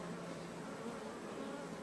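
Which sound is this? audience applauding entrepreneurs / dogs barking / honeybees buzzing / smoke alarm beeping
honeybees buzzing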